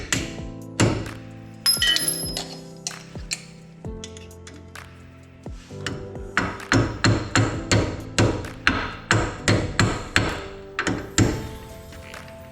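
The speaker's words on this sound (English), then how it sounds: "Take a small screwdriver or a roll pin punch" Repeated metal-on-metal hammer strikes drive a brake pad retaining pin through a 4-piston caliper on a Dodge Charger/Challenger, using a small screwdriver or roll pin punch; sharp ringing taps come close and loud, sparse at first, then a steady rhythmic series.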